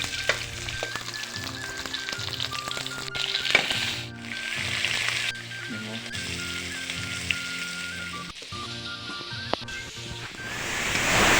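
Onion hisses and crackles in hot oil in a kadai-style wok, with crushed chillies already added. A loud, continuous sizzle is broken by occasional stirring clacks, with no speech.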